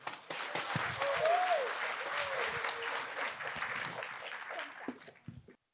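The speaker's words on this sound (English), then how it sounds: "Let's give another round of applause for Mr. Duong." Audience at a Vietnamese American community anniversary gala applauds a speaker, a dense burst of clapping that swells and then fades out over several seconds.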